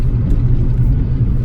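A 1988 Ford Mustang GT with a five-speed manual, driven through a neighborhood, gives a steady, close, loud low engine rumble that holds even throughout, with no voices over it.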